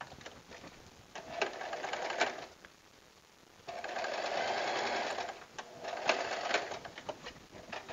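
A sewing machine stitches a blouse hem in two loud, steady runs of rapid mechanical whirring, with a short near-silent pause between them and no talk.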